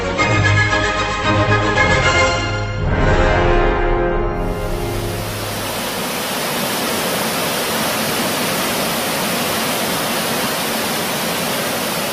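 A huge waterfall pours an enormous volume of water as a dense, steady broadband roar that swells in after a fading musical passage and then holds continuously, loud and unbroken, with no voices.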